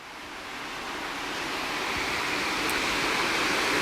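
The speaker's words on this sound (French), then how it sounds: "Le bruit de l'eau" Water flowing through a canal in Kyoto, a steady broadband rush that swells slightly louder over a few seconds, continuous and close with no voices.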